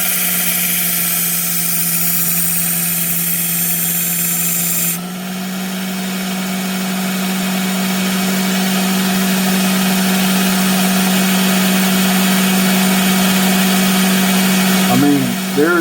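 A Work Sharp Ken Onion Elite Mk.2 belt knife sharpener runs with a steady, loud motor whine and belt hum that rises in pitch after a speed change, with brief grinding near the end.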